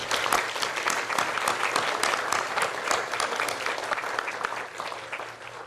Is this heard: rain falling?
no